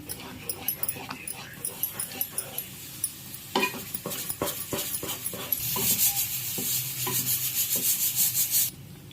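Sago halwa with ghee being stirred in a pan: repeated scraping strokes of a spoon against the metal, then a steadier sizzle as the mixture heats, close and clear.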